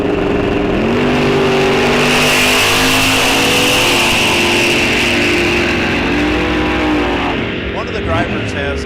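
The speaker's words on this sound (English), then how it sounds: "Matte blue. 2011 Camaro in the right lane." A matte blue 2011 Camaro drag car launches down the right lane of a drag strip. Its engine roars loud and sustained, then rises in pitch as it accelerates away, while a commentator talks over it throughout.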